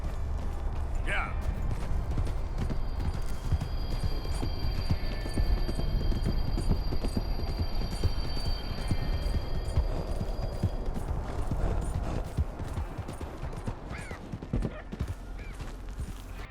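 A horse in Red Dead Redemption 2 grows agitated near a ghost train, its hooves clopping continuously in a busy rhythm along with a few brief whinnies and mechanical rumbling, while a voice talks over much of it.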